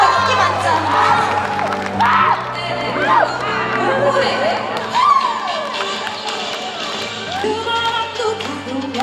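Crowd at a multinational community gathering cheering and applauding as Cambodian residents stand, a steady loud mix of clapping, shouts and whoops with voices throughout.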